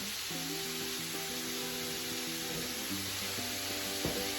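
Ground beef frying in a pan, a steady low sizzle under a loud constant hiss, with tonal hums and a faint clink near the end.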